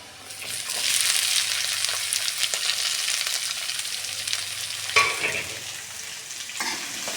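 Onions frying in a pan for lauki (bottle gourd) sabji give a steady, close sizzle with occasional stirring scrapes, alone with no talk.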